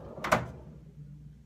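A file cabinet's top drawer slides open with one quick, quiet scraping rush, then a faint low rumble as it settles in a quiet room.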